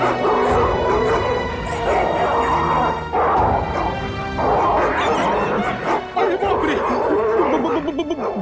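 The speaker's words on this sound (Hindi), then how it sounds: "भौंकने की आवाज इधर से आ रही है," A pack of many dogs barks and whimpers continuously at mid distance, with yips and whines overlapping in a dense, unbroken chorus throughout.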